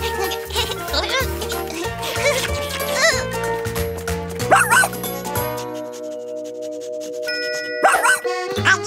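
Playful cartoon music with bright chimes plays while the cartoon puppy Pluto from Mickey Mouse Funhouse yips and barks in short bursts, with a few ding-dong tones near the end.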